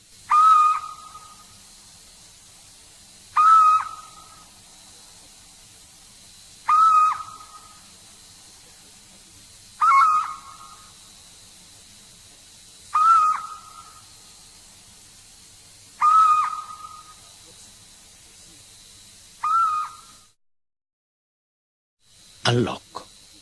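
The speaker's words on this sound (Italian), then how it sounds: "Civetta comune." A little owl calls repeatedly, with seven evenly spaced, clear whistled notes spaced about three seconds apart, each rising sharply and fading, heard alone and fairly close, then a short silence and a brief noise at the end.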